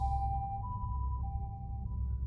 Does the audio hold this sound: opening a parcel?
no